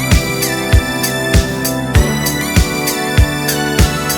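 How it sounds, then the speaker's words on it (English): Programmed producer drum beat with kicks and snares, a shaker or tambourine layered on the 2s. Steady loop of punchy hits at an even tempo with bright rattling accents, loud and close, no talking. "So you could get a shaker sound"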